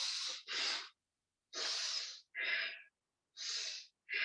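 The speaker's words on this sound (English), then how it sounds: "Breathing in out." Pranayama practice with deep, forceful breaths in and out through the nose, heard as loud, close, rhythmic rushing bursts with short silent pauses between them, with no talking.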